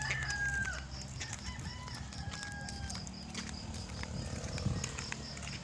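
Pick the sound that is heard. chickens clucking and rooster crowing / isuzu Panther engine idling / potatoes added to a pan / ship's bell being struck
chickens clucking and rooster crowing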